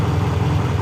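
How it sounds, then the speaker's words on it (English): Triumph hardtail motorcycle engine idling a little high, a steady close rumble with even low pulsing and no voices over it. "Sounds like it's idling a little high right now."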